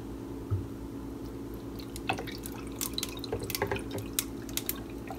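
Iced coffee trickles and drips into a cup close up, with scattered small splashes and clinks over a steady low hum.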